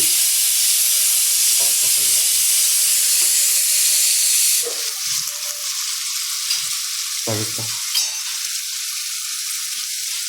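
Ginger-garlic paste and small shallots frying in oil for a beef curry, a loud, steady close sizzle with scraping stirs from a spoon, the hiss easing a little partway through.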